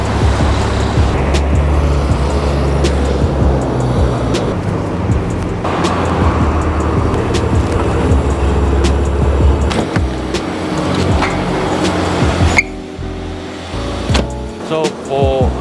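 A Maserati Ghibli turbocharged car drives along the road, its engine and tyre rumble a steady loud drone from inside the cabin, with a brief settling toward the end.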